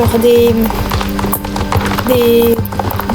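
Horse hooves clip-clop steadily from a horse-drawn cart in the online game Star Stable (SSO), a close, regular trotting rhythm over a looping game soundtrack with tonal musical notes.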